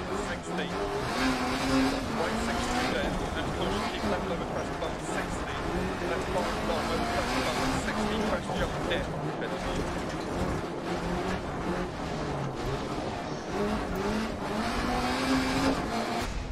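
Group B rally car on a night stage in Sweden in Dirt Rally, its engine roaring and revving continuously with rising and falling pitch through gear changes, loud and close throughout the run.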